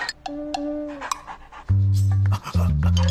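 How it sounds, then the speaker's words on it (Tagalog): A dog makes short, strained whimpering and whining sounds, then lets out louder, deeper growling cries near the end. "Alam kong aso yan."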